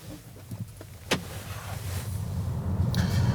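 A Volvo EX30 electric car pulls away, a low motor whir swelling steadily louder after a faint click and a brief knock, with no engine rumble.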